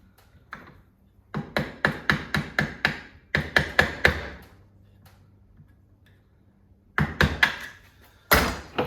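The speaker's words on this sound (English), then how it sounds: "Hammer down the retainer" Metal hammer blows ring out in rapid bursts of sharp, evenly spaced strikes, hammering down a Salsbury clutch retainer on a Honda FL250, three groups separated by short pauses, close and clear.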